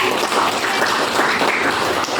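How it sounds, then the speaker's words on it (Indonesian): Classmates in a teaching-practice lesson clap for a student, a continuous, dense patter of hands filling the room at an even level throughout. "tepuk tangan dulu untuk Senja"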